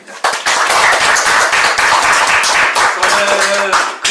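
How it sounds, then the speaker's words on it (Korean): An audience at a university lecture gives a big round of applause. Dense clapping starts abruptly and carries on loud and close for about four seconds, with faint voices mixed in near the end. "큰 박수 받고 다시 시작하겠습니다."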